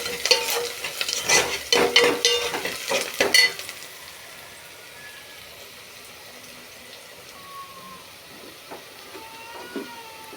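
Onions frying in a pan, opening with a few seconds of loud stirring clatter, then settling into a quieter, steady sizzle with occasional faint scrapes.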